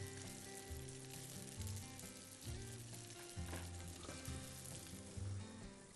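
Potato and spinach meatballs fry in a pan with a steady, loud sizzle and crackle of hot oil, punctuated by occasional lower clunks of stirring or turning, continuous and near, with no talking.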